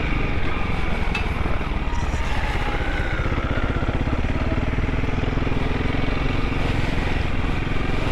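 A Honda CRF300L dual-sport motorcycle runs along a jeep trail, its single-cylinder engine giving a constant, fast-pulsing drone that stays loud and even throughout.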